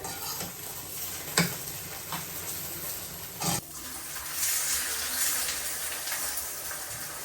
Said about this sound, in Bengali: দুটা ডিম ভাজা দিতেছি